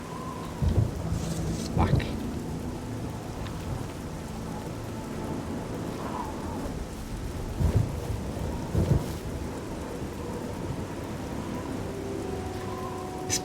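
Rain pours steadily in the game Oblivion while thunder rumbles several times, low booming rolls over the constant hiss, with a brief spoken word at one point.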